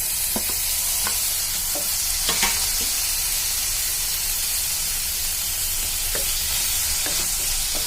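Tomato and onion sauté in a pan, giving a loud, steady sizzle close up with occasional stirring scrapes and taps.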